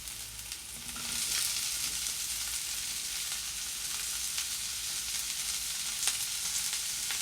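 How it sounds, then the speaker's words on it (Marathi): Onion-garlic masala with turmeric and coriander powder sautés in a pan, giving a steady, moderately loud sizzle and crackle with an occasional stir scraping through it. "हे आता चांगले परतून घ्यायचे आहे"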